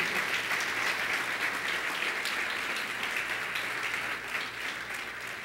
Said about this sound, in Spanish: Recibimos un fuerte aplauso a nuestros amigos